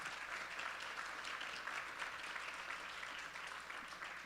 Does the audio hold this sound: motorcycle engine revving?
no